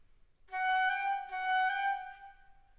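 A Baroque flute plays a short slur-two articulation figure: clear, breathy notes grouped in pairs, heard alone in a quiet room with no talking.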